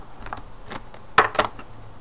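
A polymer clay cane being cut in half: a few soft, crisp slicing clicks, the strongest pair close together near the end, quiet and with no voices.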